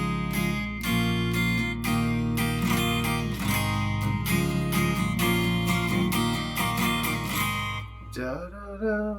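An acoustic guitar strums the chorus chords of a song in a steady rhythm, with a counter melody moving along the top notes of the chords. It plays close and clear, then slides into a different chord at the end.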